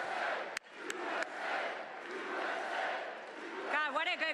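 A large crowd at a Donald Trump rally in Pennsylvania roars and cheers continuously, with a few sharp claps or bangs early on and shouted chanting rising toward the end.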